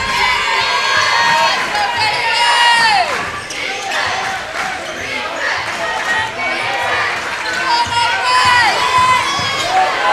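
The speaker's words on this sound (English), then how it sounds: "Crowd wants a travel call." Gym crowd at a boys high school basketball playoff game yelling and shouting loudly for a travel call, sustained noisy roar with ball bounces and sneaker squeaks, rising and falling over ten seconds.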